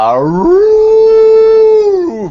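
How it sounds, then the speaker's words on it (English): A hound dog lets out a single loud, close howl, rising into a long sustained tone before falling away, with no other sound around it. "Why do you have a hound dog?"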